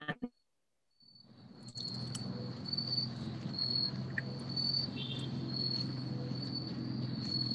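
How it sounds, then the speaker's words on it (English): Steady, high-pitched cricket chirping fills the background continuously after a brief moment of silence, with a low hum underneath, heard over an online school committee meeting call. "I'm literally hearing crickets right now."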